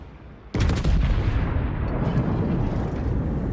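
Warship guns firing high-explosive shells in World of Warships: a sudden heavy boom that opens into a loud, sustained rumbling roar of salvos and echoes, with no talking.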